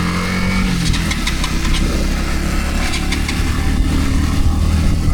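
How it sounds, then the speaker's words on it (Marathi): A motorcycle engine runs continuously nearby with a loud, even, mid-pitched rumble and a few faint ticks on top, at the start of a ride, with no voices. "गाडी चालू कर मग त्यासाठी."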